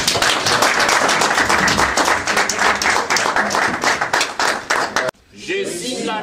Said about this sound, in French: qu'on peut applaudir pour